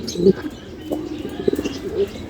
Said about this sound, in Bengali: আর নরের ডাক দেখেন আপনারা